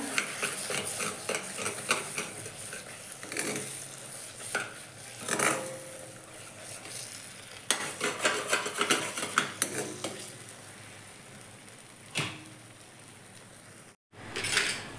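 A spoon stirs paneer masala in a hot pan, repeated scraping and clinks against the metal over a soft continuous sizzle, with no talking.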